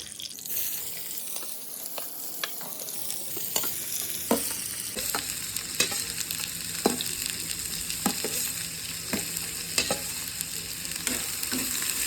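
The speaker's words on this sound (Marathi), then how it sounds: "कांदा लाल होईपर्यंत परतून घेतलेले" Onions sizzling in hot oil with cumin seeds and curry leaves, a steady close fry punctuated by repeated scraping taps of a spoon stirring the pan.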